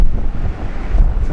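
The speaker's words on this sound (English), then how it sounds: "Really windy." Strong storm wind buffets the microphone on the coast at Stoer, a loud, continuous low roar with gusty surges and the rush of surf beneath, with no voices.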